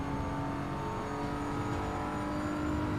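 GT3 race car engine droning at steady high revs on the Nürburgring in the Assetto Corsa EVO racing game, a continuous loud whine with no talk.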